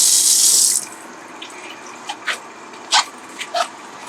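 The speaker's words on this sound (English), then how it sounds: "Now I'm just checking this real quick. And there we go, we got hot water." Hot water gushes hard from a faucet in a 2021 Pleasure Way OnTour 2.0 AWD camper van for nearly a second, then cuts off, followed by a few short, faint clicks and knocks in a quiet interior.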